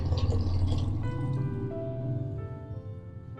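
Water is poured into a pot of cooking masala for Punjabi-style rajma curry, a splashing, gurgling fill that settles into thin ringing tones as the stream continues, heard close and alone.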